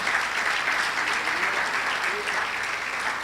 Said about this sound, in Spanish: Dar un aplauso a Jesús y al Padre.